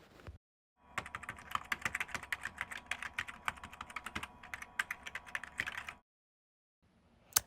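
Rapid typing on a computer keyboard, close and clear, with quick irregular key clicks for about five seconds, then silence and a final lone tap. No one speaks.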